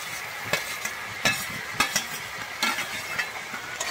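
Fried potato is stirred with spices in a pan for a banana flower dish, a spoon scraping in irregular strokes over a soft continuous sizzle.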